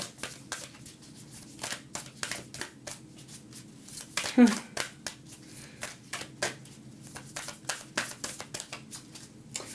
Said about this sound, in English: I'm going to keep shuffling until Spirit has something for you.